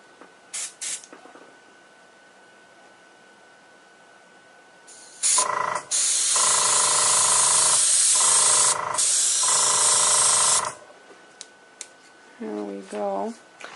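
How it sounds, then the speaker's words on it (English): An airbrush sprays paint onto the leaves of a painted tree: a couple of quick short puffs, then a loud close sustained hiss broken by brief pauses, followed by quiet and a short bit of voice. "Now I'm going to just airbrush the leaves"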